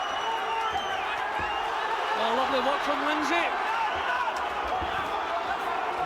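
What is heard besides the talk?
boxing crowd noise at ringside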